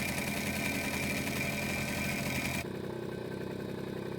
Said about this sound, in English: I'm on the moped, the engine's running.